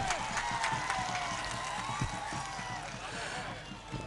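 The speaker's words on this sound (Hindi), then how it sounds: "जोरदार तालियों से स्वागत करें।" An audience at an outdoor public welcome event in Dhamdaha claps and cheers for Minister Leshi Singh, a steady wash of applause with voices talking over it throughout.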